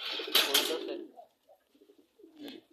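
White Bombay pigeons cooing softly up close, a few low throaty coos following a louder burst of nearby activity.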